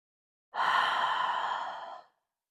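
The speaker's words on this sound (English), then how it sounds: "One more, breathing into the lungs" A single long, deep breath during a yoga breathwork exercise, a smooth airy sigh lasting about a second and a half, close and clear, then silence.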